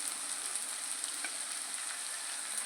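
Onions and tomatoes frying in a pan for a salted fish and egg curry, a soft, even, steady sizzle with a faint high whine over it, no talking.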